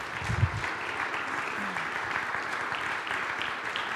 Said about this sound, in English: Please show a round of applause for our new members.